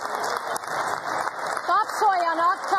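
Sustained applause in the Hungarian parliament during a speech by an MP, a dense, steady clatter of many hands filling the chamber, with a voice rising over the clapping toward the end.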